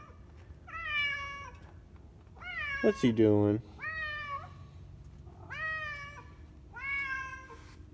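A cat meows several times at a steady pace, with a person speaking briefly in the middle.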